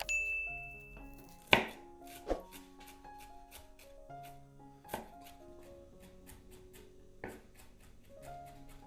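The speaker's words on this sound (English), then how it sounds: "Fresh parsley, finely chopped, for that final touch of freshness." Fresh parsley chopped with a knife on a board, a string of crisp rhythmic knife taps and a few louder thuds, heard over light background music.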